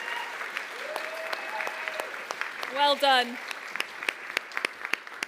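Applause ripples through the audience at a startup showcase, a steady crackle of clapping with a brief voice cutting in and a whoop or cheer rising near the middle.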